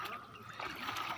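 Faint trickling floodwater runs steadily in the background as it is let out, soft and somewhat distant, with no voices.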